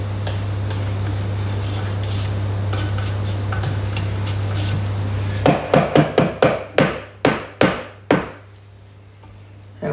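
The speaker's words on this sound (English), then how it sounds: "I am tapping on the side of my bowl there with the spatula" A spatula taps against the side of a Thermomix bowl, about eight sharp knocks in a quick, slowing series after a stretch of low steady hum, close and loud.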